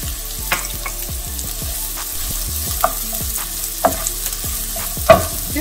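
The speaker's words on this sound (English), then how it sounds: "I'm going to add the onion" Chopped onion frying and sizzling in a pan for spaghetti squash boats, with a steady hiss under repeated scraping stirs and a few louder clinks of the utensil against the pan; no talking.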